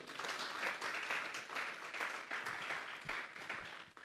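Congregation applauding during a Sunday church service, a steady, fairly quiet wash of many hands clapping that holds for about four seconds before trailing off.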